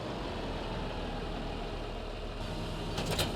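A tractor engine idles steadily in a farming game, a low continuous rumble filling the short stretch at an even level, with a brief brighter clank near the end.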